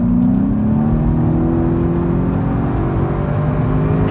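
A 2016 Seat Ibiza Cupra with a 1.8 TSI engine accelerates hard, its loud, steady engine drone climbing smoothly in pitch over about four seconds with no talking.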